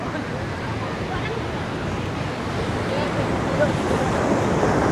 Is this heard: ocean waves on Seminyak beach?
yes